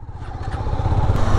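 Bikers' motorcycles pass by at Akkayamma Betta near Hebbal, Bangalore, their engines giving a loud, steady, close rumble that holds throughout with no break.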